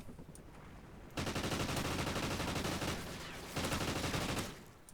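A full magazine of rapid automatic gunfire in Call of Duty Ghosts rattles loudly in two long sustained bursts separated by a brief dip.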